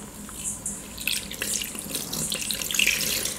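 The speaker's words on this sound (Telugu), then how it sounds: "వాటర్ పోసుకుంటా." Water pours into maida flour mixed with salt, curd, cumin and soda for Mysore bonda batter, a close, splashing, trickling stream that swells and varies as it runs.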